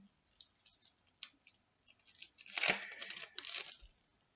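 Foil football trading card pack torn open by hand, close and quiet: a few brief crinkles lead into one sharp ripping tear followed by crackling rustles of the wrapper, no talk.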